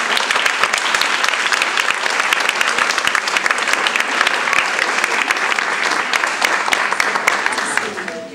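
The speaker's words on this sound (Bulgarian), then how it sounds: "Хайде сега ръкопляскайте всички." A crowd at a church gathering applauding, dense continuous clapping throughout that fades out at the very end, with faint voices mixed in.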